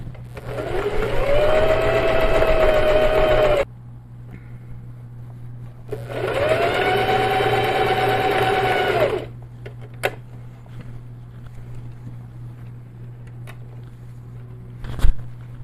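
A sewing machine stitches a quilted seam in two steady runs of a few seconds each, a close humming whir with a brief pause between, followed by quiet and a couple of small clicks.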